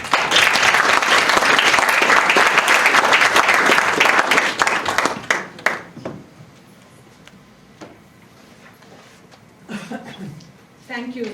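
An audience at a book launch at Manchester University applauds to welcome a speaker. The sustained, full clapping lasts about five seconds, then thins to scattered claps and a quiet room with small knocks and shuffles.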